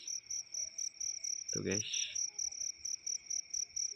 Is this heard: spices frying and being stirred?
no